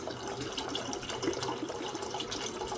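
Water from a tap runs into a bottle being filled at home, a steady close gushing stream lasting a few seconds with no voices.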